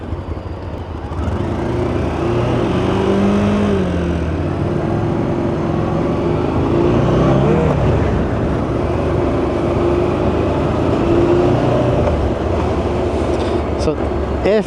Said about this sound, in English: Because it is a big V-twin, it's quite happy sitting low down in the rev range.